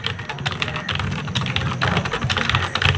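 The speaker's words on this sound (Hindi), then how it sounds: "हम टाइपिंग करेंगे" Rapid typing on a computer keyboard for typing practice: dense, continuous key clatter, close and clear, with no voices.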